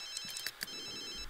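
A phone rings in The Sims 3 video game, with several short bright electronic rings in quick succession over quiet game background, fairly faint.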